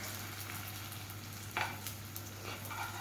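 Paneer tikka fries in a little oil with a quiet, steady sizzle, and a single scrape and clack marks a piece being flipped partway through.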